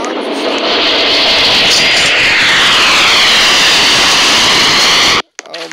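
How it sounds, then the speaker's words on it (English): A passing airplane roars loudly and steadily overhead in a Roblox flight game, its broad engine wash holding for about five seconds before cutting off abruptly, with brief faint sound afterward. "There's another plane flying over."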